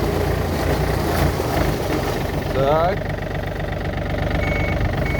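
A used Yanmar F235 tractor engine idles steadily in a continuous low rumble at close range, while a person speaks a brief word over it.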